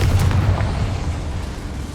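A deep, rumbling blast from the Confringo spell in Hogwarts Legacy, a loud low boom that swells at once and then rolls on and slowly fades.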